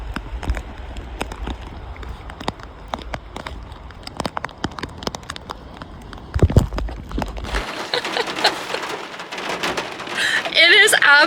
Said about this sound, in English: It is absolutely pouring right now.